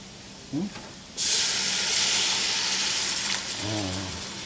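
Spice paste for a Hari Raya curry sizzles in a hot pan as water is poured in, giving a sudden loud, sustained hiss and bubbling, with brief speech before and after.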